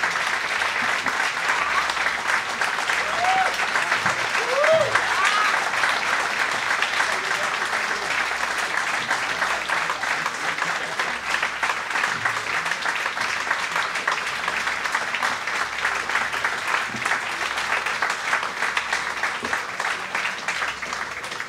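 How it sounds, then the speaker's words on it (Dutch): Applause from an audience in a lecture hall, a sustained, even roar of many hands clapping that holds steady throughout, with a few faint voices rising briefly early on. "dan heeft hij inderdaad een applaus verdiend"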